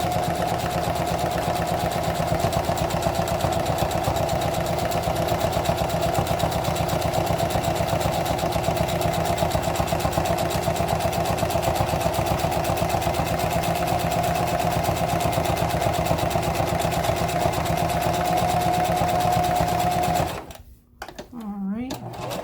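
Sewing machine stitching down the edge of handbag straps, a steady continuous whirring hum for about twenty seconds before stopping abruptly, followed by brief handling noise.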